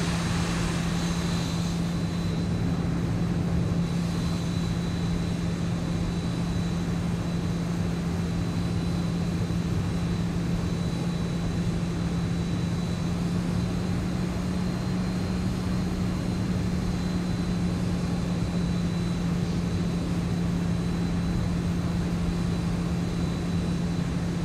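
Aircraft engine in flight in the X-Plane 12 flight simulator: a constant, loud, droning engine hum with a steady low tone and whine, unchanging for the whole stretch, no talk.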